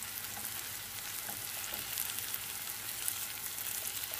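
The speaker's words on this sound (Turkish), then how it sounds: "Yağsız tavada veya fırında pişiriyoruz." Homemade minced-meat döner frying in a dry pan without oil, a dense, steady sizzle close up with no talking.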